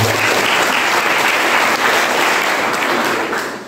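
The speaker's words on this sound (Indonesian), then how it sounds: "Kasih tepuk tangan dulu untuk Tuhan." A church youth congregation at a Christmas sermon bursts into loud, sustained applause, a thick, even roar of clapping from many people that barely wavers and eases only slightly at the very end.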